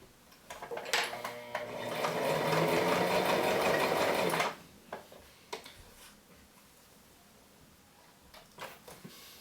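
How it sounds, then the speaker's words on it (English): A sewing machine stitches the side of a fabric mask: a close, steady mechanical whir runs for a few seconds and then stops, followed by scattered light clicks and handling noises. "Make sure as you sew along the side that you don't inadvertently start sewing into the strap that's underneath until you get to the edge."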